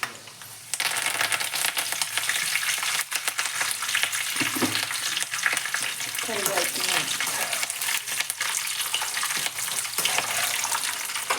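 Peanuts and curry leaves crackle and sizzle in hot oil in a home kitchen pan, a loud, steady frying hiss that starts abruptly and continues close up, with brief stirring noises.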